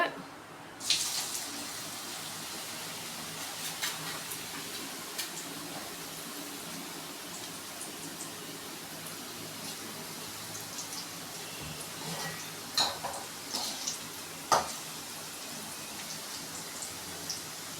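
Steady soft sizzling of potatoes frying in hot oil for French fries, with occasional pops and crackles breaking through.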